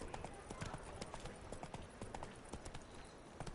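The horse Roach trots in The Witcher 3, hooves clip-clopping in a steady rapid rhythm, close and clear, with a voice speaking briefly over the hoofbeats.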